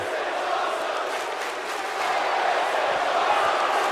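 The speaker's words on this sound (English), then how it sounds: "Fans trying to cheer Ryder on here." Crowd cheering in the WWE 2K17 wrestling video game, a dense roar of arena fans, loud and sustained throughout.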